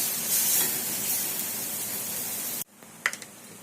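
Chopped tomatoes and onions sizzle loudly in a frying pan with a steady hissing crackle, then the sound cuts off abruptly, followed by a couple of faint clinks in near silence.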